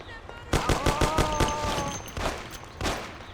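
Rapid automatic gunfire rings out in the video game Mafia, a dense burst of shots followed by a few scattered ones, loud and close, with a shouting voice mixed in.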